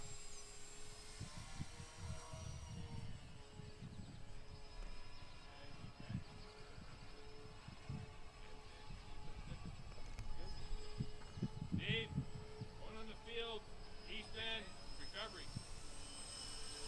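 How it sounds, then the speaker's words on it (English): Twin engines of a Dynam C-47 Skytrain RC model airplane drone steadily across an open flying field, a continuous buzzing hum with a few faint voices nearby. "Sounds very cool with the twin engines."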